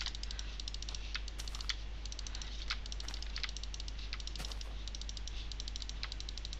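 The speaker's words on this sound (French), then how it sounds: "Désolé hein, pour le clic de souris." Rapid computer clicks in a steady patter, mouse clicking while building with repeaters in Minecraft, close and fairly quiet against a constant low background hum with no talking.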